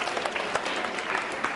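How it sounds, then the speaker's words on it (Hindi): Quick burst of moderate applause from an audience at a school quiz show, a dense even patter of many hands clapping. "तालियां जोरों से बजाइए"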